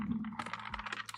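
Computer keyboard being unplugged, swapped and handled at a desk, a quick flurry of close plastic clacks and rattles with a soft thump, short and near, no talking.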